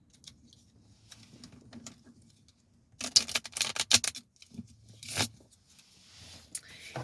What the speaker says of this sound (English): And give it one more shuffle.